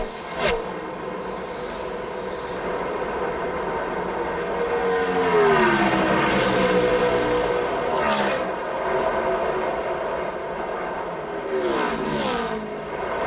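NASCAR stock cars race at Indianapolis Motor Speedway, roaring past in loud waves of engine noise with Doppler sweeps as they pass. Engines swell and fade repeatedly under a race commentator's voice.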